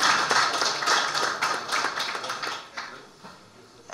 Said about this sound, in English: I want you to congratulate yourself for taking responsibility for Anguilla and your love for Anguilla by applauding yourself this evening.